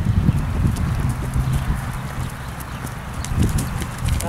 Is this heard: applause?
no